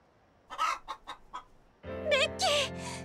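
A chicken in the video game Like a Dragon: Infinite Wealth clucks in a quick run of short, close calls, followed by louder, drawn-out squawking cries.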